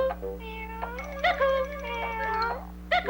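A cartoon kitten meowing in a Tom and Jerry cartoon, a run of high, wavering mews and cries, close and clear, over a steady low hum with no talk.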